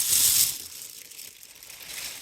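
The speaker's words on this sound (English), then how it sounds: "Take this plastic bag off." A plastic bag is pulled off a Polaris Ranger storage box, giving a close, bright crinkling rustle that is loudest at the start and then continues more softly.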